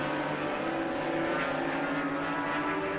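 Norton and Suzuki racing motorcycles scream past at Cadwell Park in a 1988 race, a sustained high-revving engine drone with shifting pitch, steady and moderately loud throughout.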